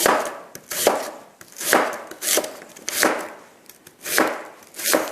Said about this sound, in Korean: 요거를 납작납작하게 이렇게 얇게 썰어주시면 돼요